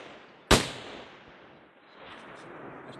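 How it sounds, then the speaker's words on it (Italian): A single sharp rifle gunshot cracks out near the start at a long-range sniper training session, followed by a fading echo and quiet background. "Hai sparato?"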